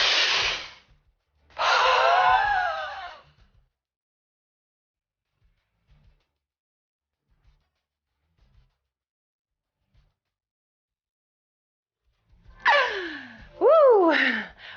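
Forceful breathing from a bodyflex facial exercise demonstration: two loud breathy exhales, then near silence during a breath hold, then more sharp breaths and gasping whoops, close and alone.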